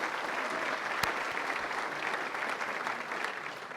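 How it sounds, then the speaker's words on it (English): Sustained round of applause from an audience at a healthcare business event in Oregon, even and continuous, moderately distant with no talk over it. "Let's give a great round of applause to Central Oregon Health Council."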